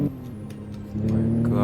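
A Maserati MC20 engine hums steadily under light throttle taps, a low droning note that swells slightly louder partway through, with a voice talking over it.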